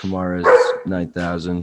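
A dog barks a few times in quick bursts at home while someone talks over it.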